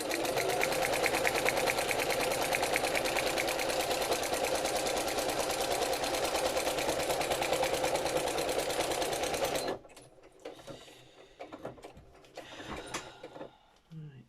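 Sewing machine stitching paper ephemera for a journal, a fast steady mechanical whir with rapid needle clatter for about ten seconds, then stopping abruptly, leaving quieter handling noises and a voice talking.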